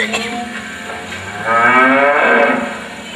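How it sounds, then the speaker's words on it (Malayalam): A bull lets out one long, loud, close moo that swells in the middle and fades at the end, heard alone without talk. "അയ്യോ, ഇവിടെ ഉള്ളവരൊക്കെ ഇങ്ങനെയാണോ കരയുന്നത്? അയ്യോ, അത് കാളയാ."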